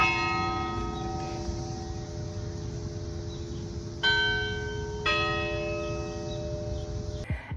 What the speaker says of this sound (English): One of my favorite things is actually hearing the bells. So the bells at Georgetown go off every 15 minutes.